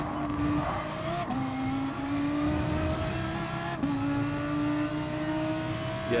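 A race car in a racing video game is revved hard in first gear. Its engine note climbs and drops back at gear shifts, giving a continuous loud whine throughout.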